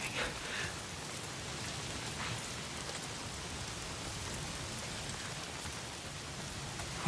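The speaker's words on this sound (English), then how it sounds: "If it's not the freaks, it's the goddamn rain." Steady, dense rainfall pours down in the Days Gone video game world, an even hiss of drops on surfaces that stays constant and fairly soft throughout with no voices.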